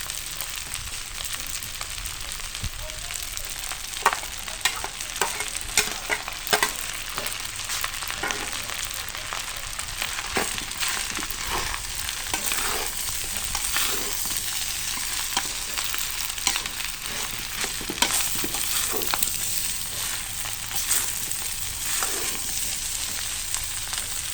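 Loud continuous sizzling of stir-frying Chinese kale in a wok, with repeated scraping and clatter of a utensil against the pan, no talking.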